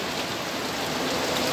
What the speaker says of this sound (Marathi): आपल्या कोकणातला पाऊस आणि कौलारू घरांवरून पडणारं पाणी